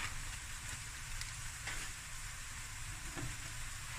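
A rice and onion mixture fries in a pan and is stirred, a steady dense sizzle with a few soft scraping strokes and no talk.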